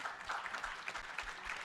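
An audience at a Black Wall Street community event gives a round of applause, a soft, steady patter of many hands clapping at a distance, fairly quiet throughout.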